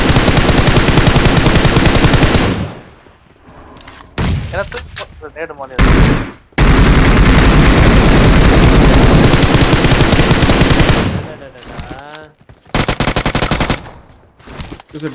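Machine gun fire in a video game, loud rapid continuous bursts close up with short gaps and pauses, and brief game sounds or voices in the quieter moments between volleys.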